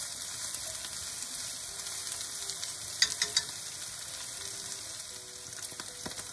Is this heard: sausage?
yes